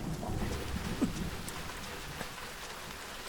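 Steady rain falls and patters on a surface, with occasional louder drops, with no voices.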